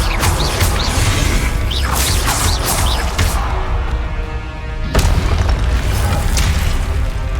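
Blasting-spell explosions from the Hogwarts Legacy video game, several loud booming bursts with crashing debris and whooshes over a dense, continuous game soundscape, with a strong blast near the midpoint.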